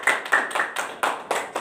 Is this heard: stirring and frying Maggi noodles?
no